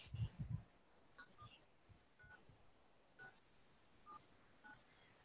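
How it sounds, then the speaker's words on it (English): A telephone dialing into a conference call gives a series of short, faint DTMF tones spaced about a second apart after a brief opening thump. "Okay, I'm going to dial in right now."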